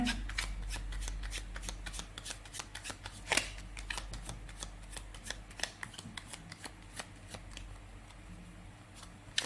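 Tarot cards are shuffled in quick, crisp riffles and slaps, a close and fairly quiet run of repeated flicks with no talking.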